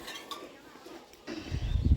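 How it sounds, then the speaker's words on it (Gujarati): Pots and pans are scrubbed nearby, first with faint clinks of metal utensils, then a louder, rough scraping and knocking toward the end. "પેન વાસણ ઘસાય છે"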